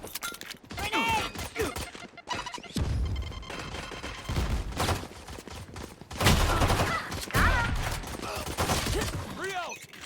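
Bursts of rapid gunfire from a Fortnite match, loud volleys separated by short pauses, mixed with other game effects and a voice talking between shots.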